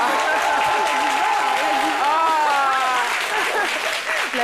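Audience applause for a singer on a French midday television show, a broadband clatter lasting several seconds with voices or music sounding over it throughout.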